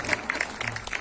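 Brief, fairly soft applause for a presenter on an Italian cooking and culture show, with faint voices mixed in.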